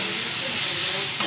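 Ridge gourd frying in a pan for a Telugu chutney gives a steady, close sizzling hiss that holds evenly through the whole moment, with a faint voice underneath.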